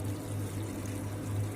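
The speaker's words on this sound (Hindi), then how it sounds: "बस पानी डालना बाकी था पौधों में" Water is poured onto household plants in a steady, low continuous flow, close by and moderately quiet, with no talking.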